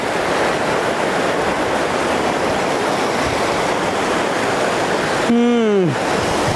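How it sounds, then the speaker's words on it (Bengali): Water rushing and cascading down rocks along the Saudi Arabian coast, a steady loud broadband roar filling the whole clip, with a brief rising whistle-like tone near the end. "দেখেন শুধু পানিগুলো কিভাবে নামতেছে"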